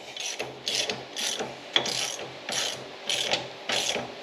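A ratchet wrench tightens a bolt on an EZ-GO RXV golf cart lift kit in a garage, giving a close, loud series of rhythmic clicking strokes, about eight even bursts of pawl ratcheting in quick succession with no talk.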